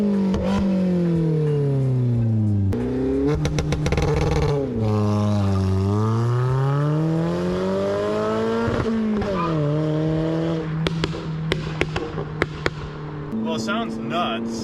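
Loud, aggressive exhaust from a tuned stage 2++ 2020 Toyota Corolla XSE while driving, its note rising and falling through gear changes with sharp crackles and pops, close and continuous throughout.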